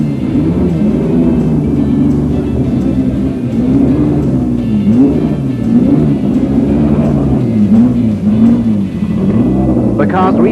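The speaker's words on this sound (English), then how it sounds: "and Nick sends them off to try the circuit in the wet" Racing car engines rumble and drone continuously on a wet circuit during the 1970 BOAC 1000 race, rising and falling in pitch as they pass, with someone talking over the steady engine noise.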